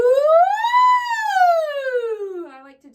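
A single voice glides up smoothly on an "ooh" and then slides slowly down, imitating a siren, ending in a soft breathy tail.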